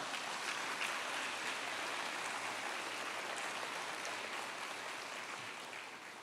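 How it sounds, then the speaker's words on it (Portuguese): A church congregation applauds in a dense, steady wash of clapping heard from a distance, keeping an even level and fading slightly toward the end, with no voices rising above it. "Você pode aplaudir a Jesus por essa palavra?"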